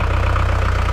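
A Volvo Penta D2-75 marine diesel engine idles close by with a steady, even low knocking throb, a regular pulse continuing throughout with no talk.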